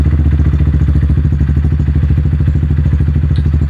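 Motorcycle engine running while the clutch is eased out into the friction zone, a loud close, steady rapid thumping pulse that keeps an even rhythm throughout.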